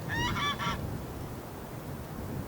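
Geese in a hunting simulator give a quick run of three close honks at the start, then fade out, leaving a steady low background hiss.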